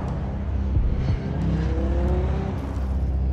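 Audi and Peugeot Le Mans prototype race cars roar past in a 2010 Le Mans setting, a steady loud engine drone with rising pitch sweeps as they pass, no talk.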